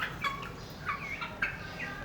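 Backyard chickens and a rooster, several short clucking and squawking calls at moderate distance in quick irregular bursts, with no talk.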